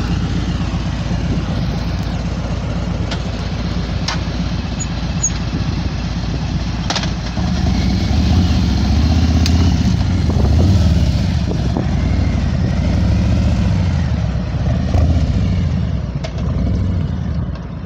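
A 2019 Harley-Davidson FLHP police motorcycle engine rumbles steadily at idle, close and loud, swelling briefly midway as it revs slightly before settling back.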